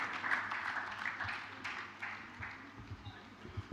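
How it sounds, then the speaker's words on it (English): An audience applauds at a formal lecture and fellows induction ceremony, a steady, moderately distant wash of clapping that slowly thins out over a few seconds. "Please can we give him a round of applause as he comes up"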